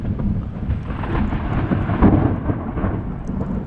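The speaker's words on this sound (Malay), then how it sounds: "Kilat dengan guruh kuat-kuat." Deep thunder rumbles continuously, heavy and rolling with a swell in the middle, with rain hissing faintly underneath, heard during a lightning storm by the Perak River.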